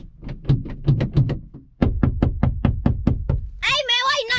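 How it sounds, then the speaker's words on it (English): Hard knocking on a surface, a rapid series of loud close thumping knocks in two bursts separated by a short pause, followed by a voice speaking at the end. "why you knocking on the thing so hard?"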